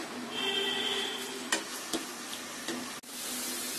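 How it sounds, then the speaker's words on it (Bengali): Half a cup of onions frying in hot ghee and oil for a cauliflower korma, a steady close sizzle with a few sharp clicks of stirring or utensil contact partway through. "ঘি আর তেলটা গরম হয়ে গেছে। এখন দিয়ে দিচ্ছি আমি আধা কাপ পেঁয়াজ।"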